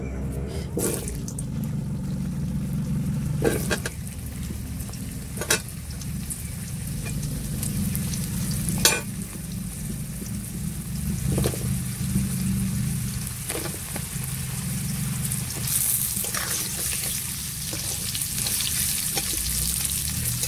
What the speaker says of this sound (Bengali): এবার এই তেলে আলুগুলো কিন্তু ভেজে নেবে